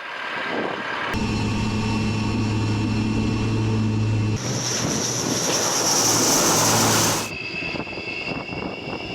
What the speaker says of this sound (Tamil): சீனாவின் விமானம் தாங்கி கப்பலான ஃபுஜியனிலிருந்து இந்த விமானங்கள் புறப்பட்டு தரையிறங்கியது